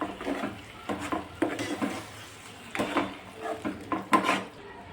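Bottle gourd being stirred into cooked tomatoes in a pan, with a series of close scraping, clattering utensil strokes against the pan repeating irregularly throughout.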